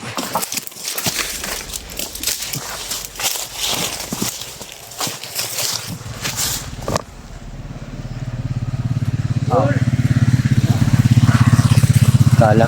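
A motorcycle passes on a road, its engine rising to a loud, steady drone as it nears. Scattered rustling and footsteps come before it, and people talk over the first part.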